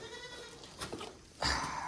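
A goat on a farm with a deep litter barn bleats once, loud and close, over a faint background hum with some soft movement noise beforehand.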